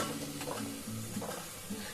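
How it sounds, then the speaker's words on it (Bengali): Parathas fry in a pan with a steady, close sizzle and soft scraping as they are turned and pressed, filling the whole two seconds at moderate loudness with no talking. "খুব সুন্দর করে ভাজা হচ্ছে।"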